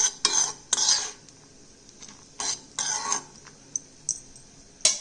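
A spoon scrapes and clinks against a pan as dry coconut powder is stirred into fried cashews, coming in several short, close bursts with quiet gaps between them.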